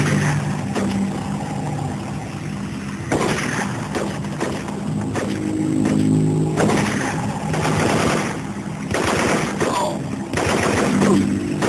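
Gunfire in the jungle warfare shooter Marine Sharpshooter 2, with repeated bursts of shots over a constant rumbling background, moderately loud and continuous.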